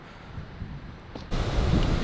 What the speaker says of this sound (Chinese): 今天这个天啊很不给力，又刮风又下雪